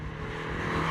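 A Renault Twingo RS 133 with a naturally aspirated 1.6 litre engine gives a brief, close, steady engine note that builds slightly in loudness, with no voices.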